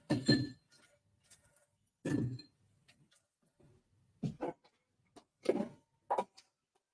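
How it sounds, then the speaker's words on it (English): Ice cubes clink against a glass as a drink is stirred, giving a handful of short, bright, irregular knocks separated by quiet pauses. "Now, if we stir, put a bit of ice in there."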